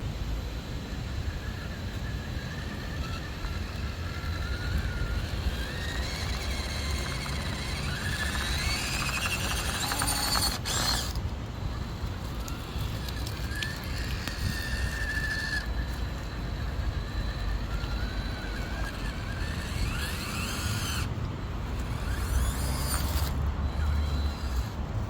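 A Traxxas TRX4M or FMS FCX18 RC crawler grinds over outdoor trail obstacles and roots, its small motor whining and creaking steadily under rustling ambient noise, with louder strained bursts as it struggles for ground clearance.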